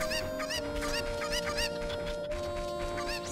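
A chicken clucks repeatedly in The Legend of Zelda: Ocarina of Time, a steady run of bright clucks over continuous game music and ambience.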